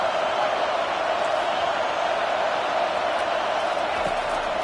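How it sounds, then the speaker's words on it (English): Dense, steady roar of a packed stadium crowd cheering to spur on its defense at an Oregon at Oklahoma football game, a continuous wash of noise with no single voice standing out. "Listen to this crowd just shaking the girders of this place"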